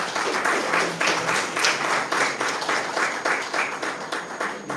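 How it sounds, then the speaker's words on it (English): An audience at a children's book launch applauds, a steady wash of many hands clapping throughout at moderate loudness. "we applaud him"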